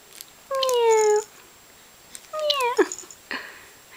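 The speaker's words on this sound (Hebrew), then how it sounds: "הנה חתול, חתול עושה מיאו" A cat meows twice, clear and close, each call a drawn-out wavering cry with a short gap between them.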